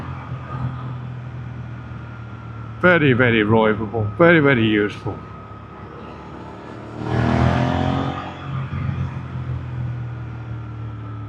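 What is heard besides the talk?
Suzuki GSX-8R motorcycle accelerating with throttle opened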